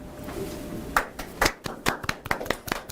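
A small audience at a Justice Party presidential candidate's policy hearing claps, murmurs giving way to a scattered handful of sharp, close claps that thin out and trail off.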